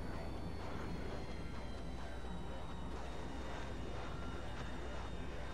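A steady airplane engine drone in a GTA game, a continuous low, even roar with no breaks, moderately faint throughout.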